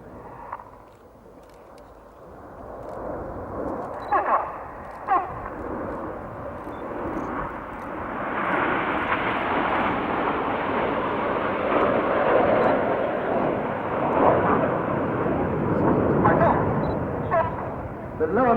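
A jet aircraft of a display team flies past at an air show, a rising broadband roar that swells and holds steady overhead, while an announcer talks over it throughout.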